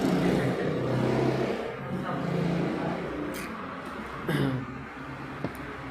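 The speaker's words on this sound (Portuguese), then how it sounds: "deixa essa moto zoadita passar." A noisy motorbike passes by outdoors, its engine droning loud at first, then fading away and leaving quieter background noise.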